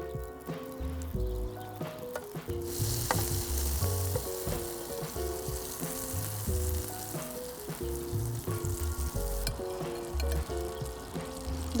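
Butter sizzling in a hot pan, a continuous close crackle and hiss with spattering pops, with some clinks and stirring sounds over the top.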